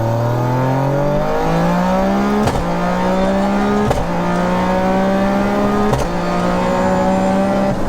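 A three-cylinder, 800 bhp Toyota GR Yaris with a sequential gearbox revs hard through several gears, pitch climbing and dropping with each shift, loud and close.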